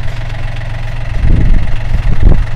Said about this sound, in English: Okay, back to the tractor.